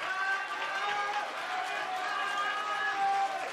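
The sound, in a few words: applause welcoming boat racer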